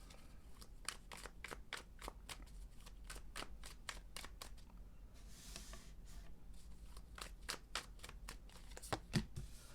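Tarot cards being shuffled by hand, a quick run of crisp riffling flutters and soft slaps repeating steadily throughout, close and fairly quiet with no talking.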